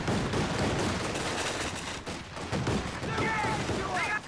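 Sustained automatic MG42 machine gun fire in the World War II strategy game Company of Heroes 2, dense and continuous battle noise throughout, with a voice speaking over the gunfire.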